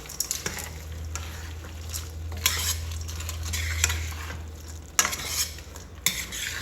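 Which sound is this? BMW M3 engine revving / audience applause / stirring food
stirring food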